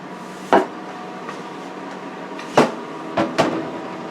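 An air fryer oven door thumps shut after an omelette goes back inside, with a few sharp knocks and clacks spaced over a few seconds against a quiet background hum.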